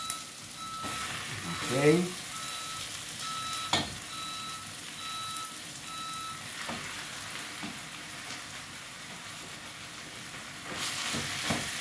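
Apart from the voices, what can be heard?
ground beef sizzling as it is added to the pan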